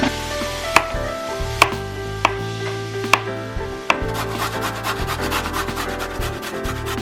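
Onions are being chopped with a knife on a cutting board, a quick run of sharp, evenly spaced chops heard up close. Music plays underneath, and no one speaks.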